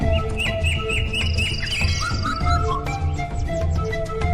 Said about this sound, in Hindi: पक्षी गाने लगे,